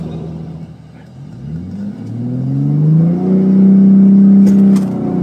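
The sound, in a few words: Ford F150 Raptor truck with Whipple supercharger accelerating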